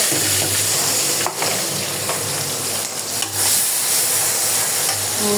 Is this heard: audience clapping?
no